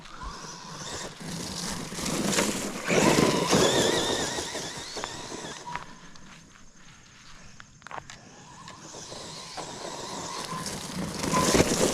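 An ARRMA Quake RC car runs at 75% throttle, giving a fluctuating whine and gritty rolling noise that swells, dips briefly midway, then builds again, close by and fairly loud throughout.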